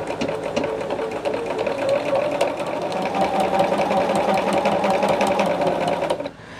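A sewing machine runs steadily while stitching binding onto a thick quilt. Its rapid mechanical chatter is close and continuous and stops abruptly near the end.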